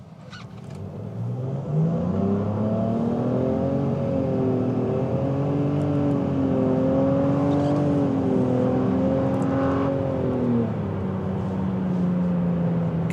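A 2025 Nissan Rogue Platinum with a CVT accelerates, a steady whirring engine note rising and dipping through simulated gear steps for several seconds, heard from inside the cabin, then settling to a lower hum.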